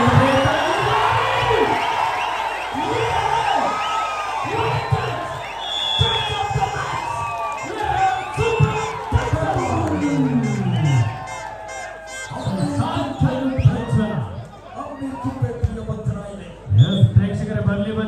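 Spectators at an all-India kabaddi tournament final cheer loudly, shouting and whooping in a dense, surging roar with bursts of applause, sustained throughout and punctuated by louder swells near the end.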